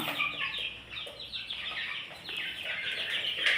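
A flock of 2.5-month-old chicks cheeping and clucking continuously at close range, with overlapping chirps forming a steady, busy chatter and no voices.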